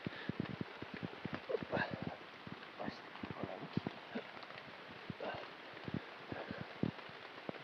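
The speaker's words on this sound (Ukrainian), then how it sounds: "Тим більший дощ." Rain patters in a forest during mushroom picking in July, with scattered drops and sharp taps on leaves and surfaces, fairly close and irregular, and a voice speaking intermittently over it.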